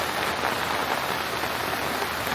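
Heavy rain pours down steadily on surfaces, a dense, continuous hiss filling the air without pause or voices.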